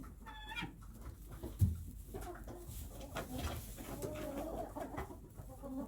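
Chickens, including several roosters, cluck and murmur softly inside a coop, some on nests or roosts, with occasional higher calls over a steady low background hum.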